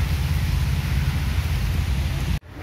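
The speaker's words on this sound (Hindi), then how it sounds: "गाइस अचानक से तेज बारिश आ गई" A sudden heavy downpour in a park roars as a dense, loud, continuous hiss with deep rumble, cutting off abruptly near the end before resuming more quietly.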